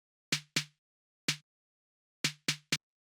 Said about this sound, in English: So the next sound I have here is this little 808 snare